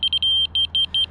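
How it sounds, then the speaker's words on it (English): Close, high-pitched beeps come from a laser receiver during level set up. A quick burst of rapid beeps shifts to a slower, evenly paced pattern, with no voices over it. "you can hear that it's the slower beep, right? The faster beep is telling you you have to go down."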